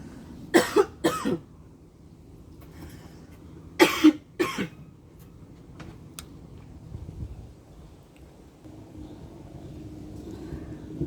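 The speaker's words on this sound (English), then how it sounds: "suddenly overcome with a coughing fit" Two bursts of harsh coughing, a pair of sharp coughs at the start and another pair a few seconds later, close and fairly loud over a quiet room with faint rustling.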